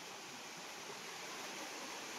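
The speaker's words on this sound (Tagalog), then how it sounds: "may bumabagsak na tubig dyan sa falls" Water pours over rocks at a waterfall on a clear river in Montalban, Rizal, heard as a faint, even, continuous rush with no breaks.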